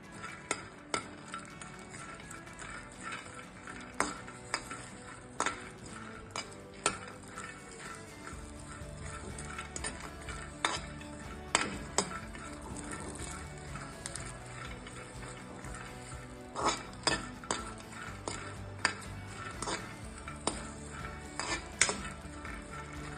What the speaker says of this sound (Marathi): यामध्ये मी कढीपत्त्याची पानं घेते, साधारण 25 ते 30 कढीपत्त्याचे पानं आहे। हे पण रोस्ट करून घेऊया आपण।